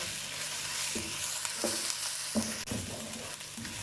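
Garlic and ginger paste fries in a pan, with a steady broadband sizzle and several scraping stirs of a spoon on the pan, all close by with no talking.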